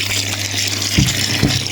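Water gushes steadily from a tap while feathers are being washed, a loud continuous rush with a couple of brief splashy surges near the end.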